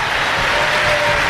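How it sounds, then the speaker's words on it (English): A church congregation claps together during a sermon, a dense, steady wash of many hands close by and fairly loud, with no let-up for the whole moment. "Clap your hands and praise God if you believe it."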